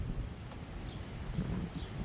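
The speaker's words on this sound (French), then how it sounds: "Ah, le vent se lève." Wind rises during a strong thunderstorm in Bordeaux, heard as a continuous low, gusty rumble buffeting the microphone, with faint rustling and no talking.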